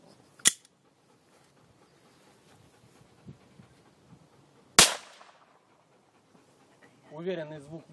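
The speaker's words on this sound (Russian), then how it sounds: "Уверенный звук выстрела, достаточно большая газовая струя, уверенный перезаряд." Gas pistol firing a CS gas cartridge, a sharp close gunshot crack with a short ringing tail, preceded by a smaller sharp snap and followed by someone speaking.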